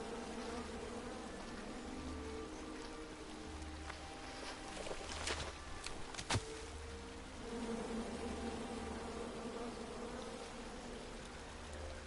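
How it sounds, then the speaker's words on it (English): Angry bees swarm around a tree in the King's Quest video game, a continuous low buzzing drone with a few sharp clicks and taps cutting through midway. "And then you chop down the tree full of angry bees?"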